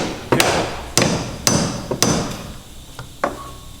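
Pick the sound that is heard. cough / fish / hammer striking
hammer striking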